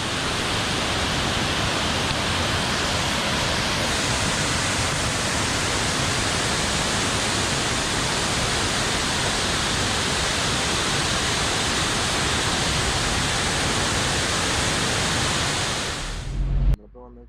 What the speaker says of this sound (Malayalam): ചാർപ്പ വെള്ളച്ചാട്ടമാണ് കാണുന്നത്